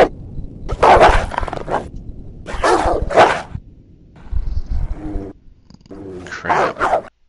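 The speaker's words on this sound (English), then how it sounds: "There's a dog. He's not chained up." A dog barks in the survival horror video game Alone in the Dark IV. The barks come in several loud, rough bursts separated by short pauses, close and prominent.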